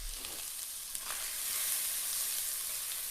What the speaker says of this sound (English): I'm going to pop in my onions. And I'm going to give that all a stir together.